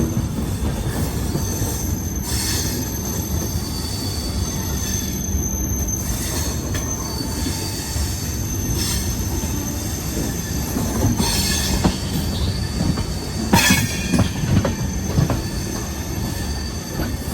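A passenger train on the Visakhapatnam to Kurnool summer special runs steadily with continuous loud rumble and rattling, sharp wheel squeals rising at intervals, and no voices.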